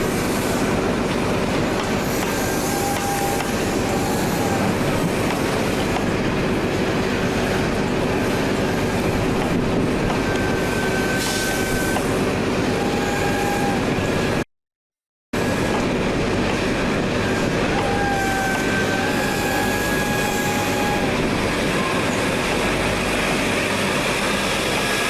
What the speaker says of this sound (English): is one of GNER's Intercity 125 sets, led by 43107, with 43111 on the rear.